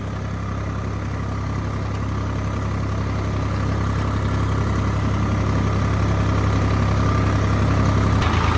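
Tractor engine running steadily while working raised beds in a wheat field, a continuous low diesel drone that holds even and loud throughout.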